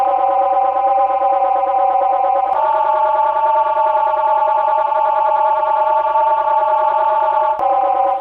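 A synth instrument built from wild feedback recordings, tuned to B with added detune, sustains a dense, buzzing chord-like tone, loud and steady for about eight seconds, with a brief dip and re-attack partway through.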